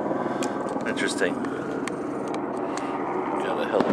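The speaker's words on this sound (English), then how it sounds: "Got a helicopter landing over here." A helicopter lands nearby with a steady rotor and engine drone running continuously under someone talking close by.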